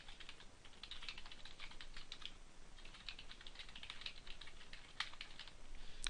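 Keys clatter on a computer keyboard as an institution's name is typed, a faint, quick run of close clicks with brief pauses and no voices.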